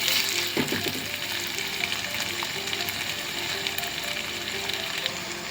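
Ginger garlic paste frying in a pan over low heat, a steady close sizzle with faint crackles and a few clinks running continuously throughout.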